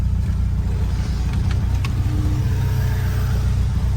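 A Lotus Elan engine idles at low speed, a loud, steady, close-up rumble with an even pulsing beat throughout and a few faint clicks in the background.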